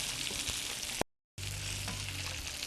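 Green beans sizzle steadily in a hot pan with a constant close frying hiss that cuts out briefly for a moment of silence and then resumes.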